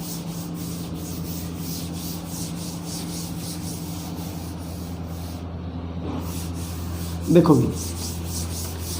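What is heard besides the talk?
rubbing out writing on the board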